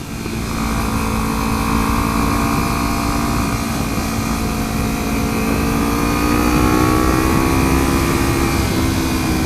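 A Kawasaki Ninja 300 motorcycle fitted with a 15-tooth front sprocket drones loudly and steadily on a canyon test ride, its engine note holding a sustained hum that slowly rises and shifts in pitch, with wind noise and no talk.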